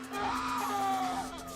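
Someone crying and screaming in a horror-story scene, a sustained, anguished wail holding steady for over a second, loud and close.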